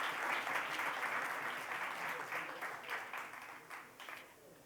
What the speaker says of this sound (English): Can we please have a round of applause for everyone's tenacity and hard work in this room?